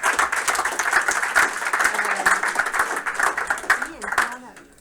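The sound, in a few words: audience applause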